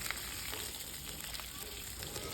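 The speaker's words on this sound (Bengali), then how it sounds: "এখন ফুলকপিগুলোকে দু তিন মিনিটের জন্য একটু লাল করে ভেজে নিতে হবে" Steamed cauliflower pieces frying in spiced oil give a dense, even sizzle that holds steady, with a few small crackles through the brief stretch.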